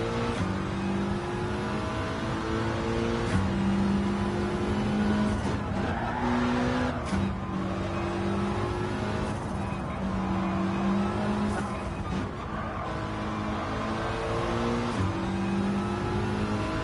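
Mitsubishi Evo engine in Gran Turismo 7, droning steadily throughout with harmonic revving that rises and falls through gear changes, brief tire squeal amid continuous racing noise, a voice faintly under it.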